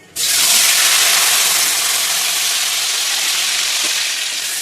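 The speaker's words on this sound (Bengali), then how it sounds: "এটা পেঁয়াজ আমার একটু ভাজা ভাজা হয়ে আসবে।" Onion paste ground with cashew, almond and green chillies frying in a hot pan for a fennel chicken dish, a loud, steady broadband sizzle that starts abruptly and holds constant, close and without talk.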